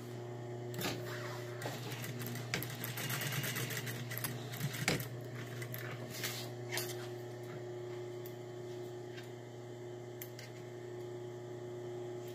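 A sewing machine stitches small, fussy seams on a textile vestment cuff, a steady mechanical hum with faint rhythmic needle clatter running throughout the clip, fairly quiet and without speech.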